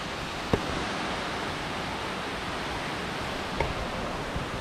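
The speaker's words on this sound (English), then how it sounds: "There's another waterfall up here." A waterfall in Springbrook National Park gives a steady, broad rushing hiss that goes on without a break, with two brief sharp knocks near the start and end.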